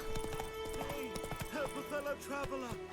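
Horse hooves clip-clop steadily in the video game The Witcher 3, with a rhythmic trot close up under game voices and a short whinny.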